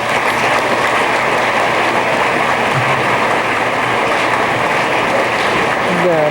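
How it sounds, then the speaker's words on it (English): Convention audience applauds award winners with sustained, dense clapping throughout, steady and fairly loud, with a few voices faintly mixed in. "A warm round of applause for our winners."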